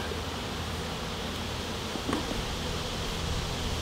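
Steady, dense buzzing of many honeybees in an opened hive housing a nucleus colony fills the clip, a continuous droning hum close by with no voices.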